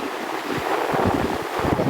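Ocean surf and gusting wind at Huntington Beach, California, heard up close as a loud rushing wash with buffeting wind against the microphone, and no one speaking.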